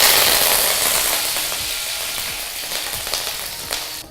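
Green chillies and curry leaves frying in hot oil for a mushroom gravy, a loud steady sizzle with crackling pops that settles slightly as it goes on, close and alone.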